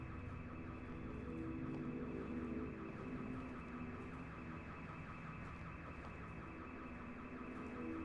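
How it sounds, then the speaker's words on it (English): A distant siren hums as a faint, steady wavering drone that lasts throughout, low in level under the outdoor ambience, with no voices. "There's some sort of siren off in the distance."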